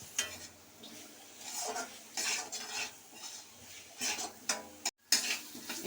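Potatoes are sautéed in a fried spice paste in a pan. Soft, irregular stirring scrapes and clinks of a utensil on the pan sit over a light sizzle, with one brief silent gap near the end.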